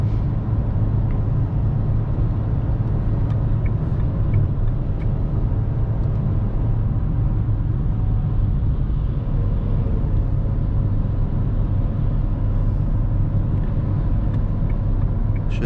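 A 2020 Dacia Duster running on LPG accelerates slowly towards 100 km/h, a steady, loud low engine and road rumble droning continuously from inside the cabin with no pauses.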